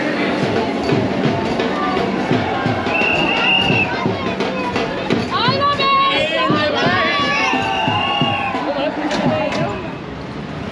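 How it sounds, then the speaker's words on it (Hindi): A dense crowd on a station platform greets an arriving Vande Bharat Express train, with loud continuous chatter, shouts and cheering close by, and children's high voices and whistles rising above the babble. "भीड़ देखो आप, भीड़।"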